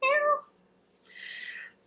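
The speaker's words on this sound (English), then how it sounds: "Oh, there's my cat." Domestic cat meows twice, a clear tonal meow up close followed after a short pause by a softer, breathier second call.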